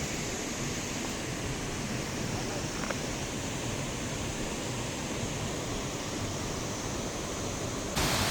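Waterfall in Barot Valley roaring as a dense, even wash of rushing water, loud and unbroken throughout, with no voices over it.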